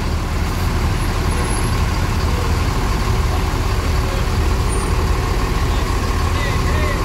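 Steady loud traffic rumble from large buses and trucks idling and edging out of a packed street in front of the Rosalia Indah bus ticket office, with a brief air-brake hiss and continuous engine drone throughout.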